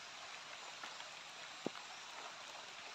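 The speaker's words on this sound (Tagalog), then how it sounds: "Parang lumalakas na yata yung ulan mga idol." Rain steadily growing heavier outdoors, a faint, dense hiss of drops with one brief sharp tap, no voices present.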